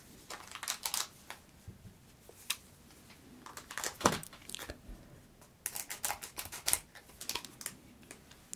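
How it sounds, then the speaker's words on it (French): Trading card booster pack torn open and handled close up, with irregular crinkling, tearing and crisp plastic-and-foil rustles coming in bursts and no talk. "Celui-ci, ce sera le dernier booster. On va ouvrir celui-là."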